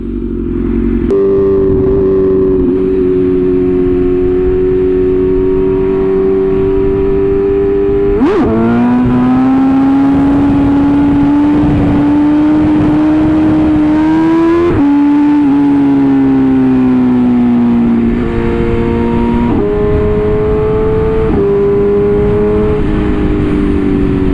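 A BMW S1000RR motorcycle being ridden, its engine droning loudly and close as the pitch climbs and drops through several gear changes and rev surges, with no talking.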